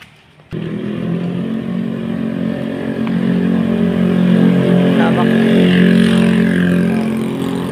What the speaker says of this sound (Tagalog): Maingay lang yung mga sasakyan dito sa subdivision pag dumadaan